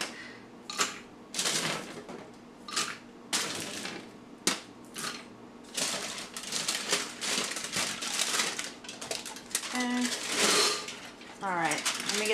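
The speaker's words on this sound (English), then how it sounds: "And then we're going to add our almonds." Almonds poured into a Ninja Foodi blender jar make a run of hard clattering rattles and ticks in irregular bursts, fairly close and moderately quiet, with someone talking between them.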